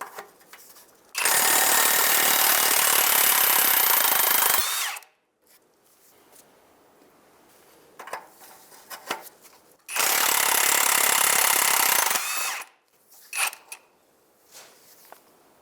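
Power tool loosening 15mm exhaust nuts under a 2007-2015 Mazda CX-9 near the rear catalytic converter: two long, loud, steady bursts of whirring, each about four seconds, separated by quieter clanks and handling noises.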